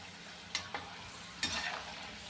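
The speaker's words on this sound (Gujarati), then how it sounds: "હવે આપણી ફ્રેન્ચ ફ્રાય તળાવા આવી છે।" Banana French fries fry in oil with a quiet, even sizzle, joined by a few sharp scraping stirs or utensil taps in the pan.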